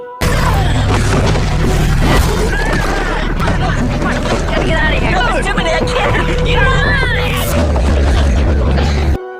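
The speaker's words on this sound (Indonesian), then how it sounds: "truk tangki meledak dan membakar zombie yang berada di sekitar truk" A large, booming explosion of a tanker truck in a zombie TV series, with crashing debris and roaring fire, layered with a dense, chaotic sound mix and shouting voices.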